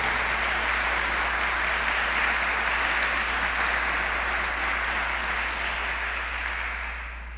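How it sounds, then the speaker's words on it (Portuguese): Sustained applause from a church congregation during a worship service, a dense steady clatter of many hands clapping that holds loud throughout and tapers slightly at the end. "Dê uma salva de palmas"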